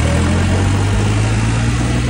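A New Holland 3630 tractor engine runs on a farm, a loud, steady, close diesel drone with a deep low rumble that holds even throughout, with no talking.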